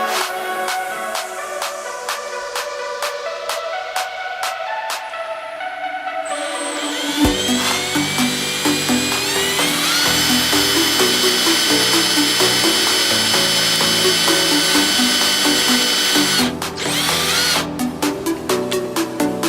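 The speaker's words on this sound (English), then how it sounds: "the drill's going the wrong way" A power drill bores into a 3D-printed part on a bench, starting with a rapid ratcheting clatter before spinning up into a loud, sustained whine with grinding, close and continuous with no talk.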